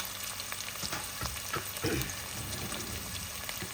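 Sliced onions and green chillies frying in a pan, a continuous close sizzle with a few stirring scrapes and clacks, no speech.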